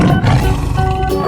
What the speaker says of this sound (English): Tiger.